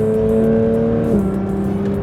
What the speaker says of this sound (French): Le moteur, c'est toujours le 4 litres, mais cette fois-ci porté à 510 chevaux et 470 Nm de couple.